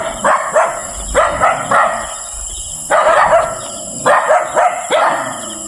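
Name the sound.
dog barking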